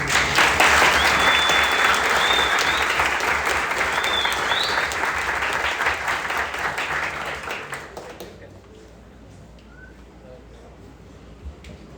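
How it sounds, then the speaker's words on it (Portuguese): An audience at an onboarding event applauds three people called to the front, dense clapping that holds steady for about eight seconds, then stops, leaving quiet room tone and a bird chirp. "Uma salva de palmas para eles."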